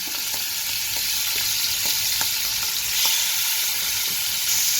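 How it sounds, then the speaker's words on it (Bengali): Oil sizzles steadily as small shrimp fry in a pan, with occasional light clicks of stirring against the pan. "এবার চিংড়ি মাছটাকে হালকা করে একটু ভেজে নেব।"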